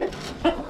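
A red rooster clucks inside a coop, two or three short, close, throaty clucks spaced across a brief moment with light background noise.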